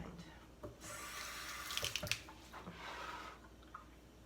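Tap water running steadily into canning jars being filled for green beans, a continuous splashing rush near the faucet with brief gurgling surges partway through.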